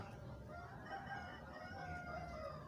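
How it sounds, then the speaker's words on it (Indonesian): A rooster crows faintly in the distance, its drawn-out call barely rising above a steady, noisy background hum of drilling from nearby work. "suara ayam juga."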